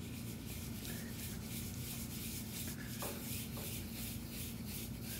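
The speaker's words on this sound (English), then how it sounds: "Start lightly rubbing the ink off." A wad of tarlatan cloth rubs ink off an intaglio printing plate in a soft, steady scrubbing rasp, close and quiet, repeating in short strokes over a low background hum.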